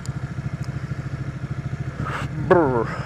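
A Ducati Panigale motorcycle rides along a highway, its engine giving a steady pulsing drone with rapid regular beats, close and moderately loud, joined by a brief clatter near the end.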